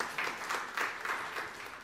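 Church congregation applauding during a sermon, a steady wash of many hands clapping together with slight rhythmic pulses, sustained throughout at moderate loudness.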